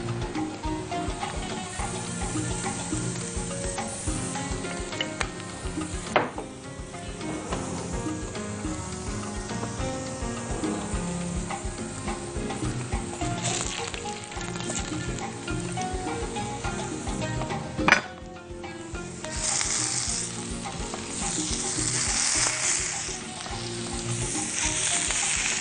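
Kebab skewers cook in a pan with a little oil, giving a steady, close, dense sizzle that runs throughout, broken by a sharp clatter around the two-thirds point and a brighter hiss near the end.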